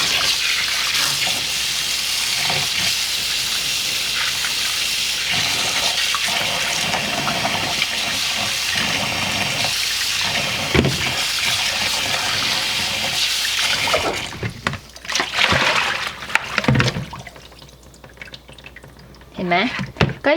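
Water drains and drips from washed chicken feet set out to dry in a kitchen, a running, splashing trickle close by that thins into sparse drips.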